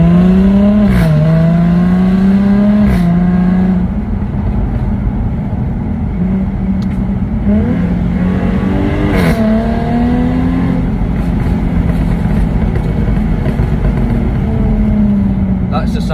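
Car engine revving and pulling through gears while driving on a road, rising and falling engine pitch with loud, continuous rumble and road and wind noise close to the microphone.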